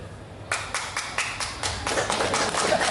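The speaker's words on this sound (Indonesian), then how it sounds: "Itu tepuk tangan untuk Nabi Muhammad" Applause breaks out at a Maulid celebration for Prophet Muhammad, a crowd of hands clapping in a quick, uneven rhythm that starts suddenly and carries on at moderate loudness in a reverberant hall.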